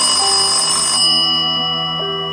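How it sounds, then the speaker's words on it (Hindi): An electronic phone ringtone plays a short melodic pattern of sustained tones, loud and close, with no voices. "तभी वहाँ रमेश का फोन आया।"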